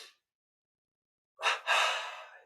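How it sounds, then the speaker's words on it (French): Two quick, close inhalations through the nose taken back to back in a yoga breathing exercise, the second longer and fuller, following a brief faint breath and a moment of silence. "double inspire"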